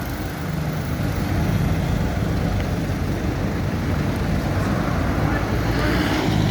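Steady street traffic in Cagayan de Oro, Philippines, with cars and shared minibuses passing near a shopping mall, a constant dense roar of engines and road noise filling the whole stretch without a break.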